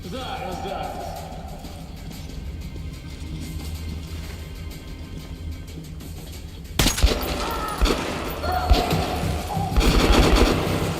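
Gunfire in the video game Metro Last Light Redux comes as loud, sharp bursts in the second half, following a stretch of game ambience and music.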